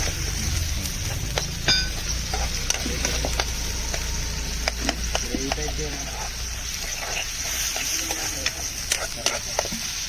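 Goat curry fries in a pan with a steady, close sizzle, scattered pops and stirring scrapes throughout.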